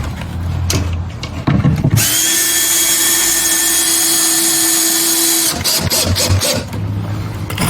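A power drill drives screws into pilot holes in wood while building a ramp launcher, giving a loud, close, steady whine of several seconds between shorter bursts and handling noise.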